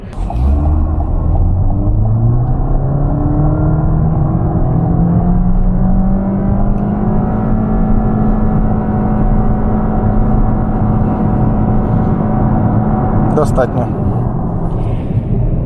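A car running fully on LPG turns around and accelerates back, the engine note rising steadily through the gears and then holding a loud, sustained drone heard from inside the cabin.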